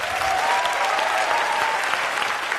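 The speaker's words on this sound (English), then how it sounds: "Big applause." Audience at a TED talk breaking into applause as the talk ends, a continuous dense clatter of many hands clapping, loud and sustained for the whole stretch.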